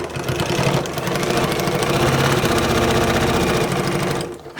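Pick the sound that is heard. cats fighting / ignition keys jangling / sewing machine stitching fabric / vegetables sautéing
sewing machine stitching fabric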